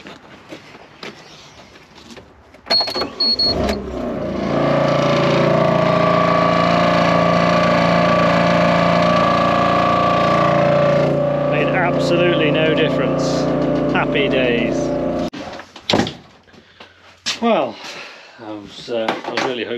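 A JCB engine cranks and starts after its exhaust is refitted, running at a loud, steady idle for about twelve seconds before cutting off, with a person talking briefly before and after.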